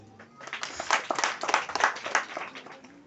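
An audience at a Day of the African Child celebration claps for the gathered participants, a moderate, somewhat distant patter of many hands with uneven swells, heard alone without talk.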